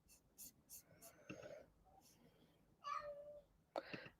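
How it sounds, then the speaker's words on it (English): Faint, soft cat meows come and go, several short calls spread out, with quiet murmuring voices in the background. "Yes, I can hear you meowing."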